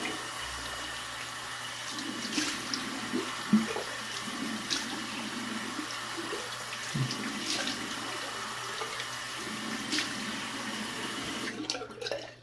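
Water runs from a tap for rinsing, a soft continuous splashing flow with small clunks, fairly faint and steady before stopping near the end.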